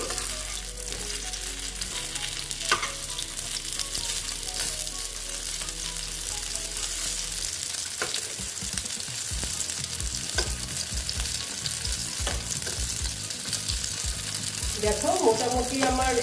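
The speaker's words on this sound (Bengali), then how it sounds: "দেখো একটু কড়া করে ভেজে নিচ্ছি" Ridge gourd pieces crackle and sizzle continuously as they fry crisp in a hot pan, with stirring scrapes throughout and a few clattering knocks toward the end.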